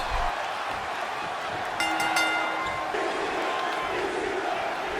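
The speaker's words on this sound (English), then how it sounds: "you already hear the electric ECW chants, the electricity from the crowd" A wrestling arena crowd in WWE 2K25 roars and chants ECW, a dense continuous wall of many voices with a brief rising cheer.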